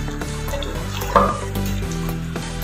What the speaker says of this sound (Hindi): अब चिकन की हमने अच्छे से फ्राई करनी है, तकरीबन 15 to 20 मिनट्स।